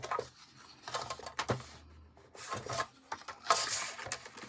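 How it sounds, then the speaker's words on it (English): A small paper trimmer slices through a sheet of paper in quiet, close rasping strokes, with short scraping bursts broken by brief pauses as the blade slides along. "Grab my small trimmer."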